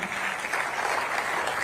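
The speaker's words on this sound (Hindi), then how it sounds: "बहुत तालियां बजनी चाहिए" An audience applauds actor Nana Patekar at the launch event of 'Khaki Ka Sitara', part of a Uttar Pradesh police cyber-awareness campaign. The clapping is dense, steady and sustained, with no break.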